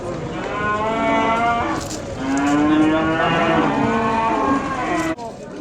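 Cattle at a livestock market in Beylagan, with loud, close mooing in long drawn-out calls that run almost continuously.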